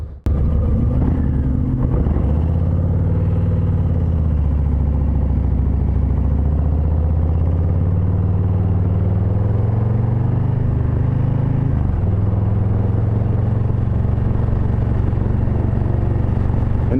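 A 2023 Harley-Davidson Low Rider ST motorcycle engine while riding, a loud, continuous deep rumble held at moderate revs that rises and falls gently with throttle changes and shifts, close and alone with no talk.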